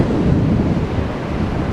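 Sea surf rolls along the south promenade, a dense continuous low rumble of waves mixed with heavy wind buffeting the microphone, fairly close and steady with no talking.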